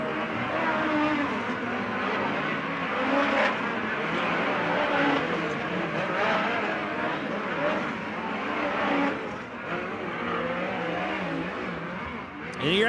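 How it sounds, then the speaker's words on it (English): A field of race cars at the USAC Hangtown 100 in Placerville accelerates together, a continuous distant engine roar swelling and fading at moderate loudness with no one talking. "But again, a beautiful field of cars coming out here, and here we go."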